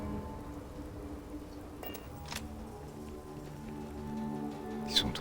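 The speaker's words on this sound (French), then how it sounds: "Oh il pleut maintenant." Rain falling in the video game Starfield, a soft, steady patter on surfaces with a faint low rumble and a few brief sharper taps, heard fairly quietly without voices.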